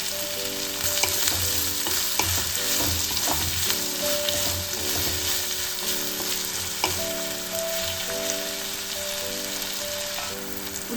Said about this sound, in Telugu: ఉల్లిగడ్డ వేగిపోయిందండి.